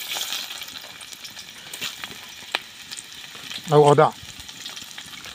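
Chopped garlic dropped into hot mustard oil, cooking for a chicken intestine dish, gives a steady soft sizzle throughout, with a brief burst of speech near the end.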